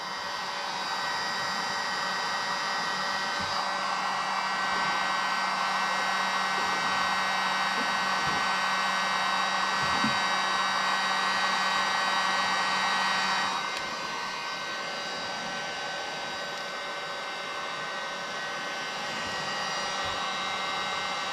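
Heat gun blowing a steady, close airy roar while warming vinyl stripes on a 2020 Ford Shelby GT350R, with a faint hum beneath; the pitch and loudness drop partway through and it continues at a lower level.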